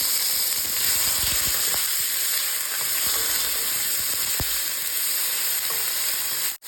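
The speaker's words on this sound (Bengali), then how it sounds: "এখন কেটে রাখা টমেটো দিয়ে দেবো। টমেটো দিয়ে টমেটোটাকে ভেজে নেব।" Chopped tomatoes hit hot oil seasoned with bay leaf and cumin, producing a loud, dense, hissing sizzle with scattered spatters and stirring clicks that cuts off abruptly at the end.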